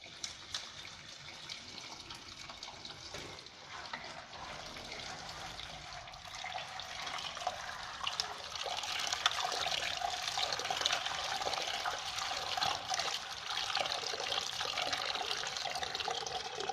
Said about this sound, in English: Now we will do the wet washing.